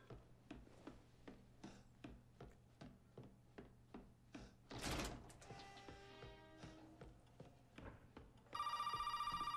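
Telephone ringing in the video game Resident Evil 7, a sharp bright tone bursting in at the very end after a steady train of mechanical ticking and clanking.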